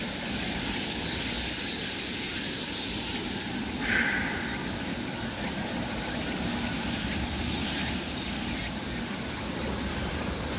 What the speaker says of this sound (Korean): 헬기 소리가 나는데 헬기가 안 보여.